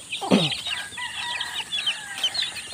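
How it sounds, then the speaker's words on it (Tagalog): Hungry chicks at feeding time on a small farm, a burst of clucking fowl calls followed by a steady chorus of high, bright cheeping close by with no talking. "nagmamadali na po itong ating mga sisiw. Gutom na sila."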